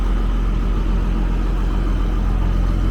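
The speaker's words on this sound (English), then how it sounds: "We're about to crank up the part sprayer and move it out of the way." A small engine on a parts sprayer runs at a steady, even idle close by, a continuous low rumble with no talking over it.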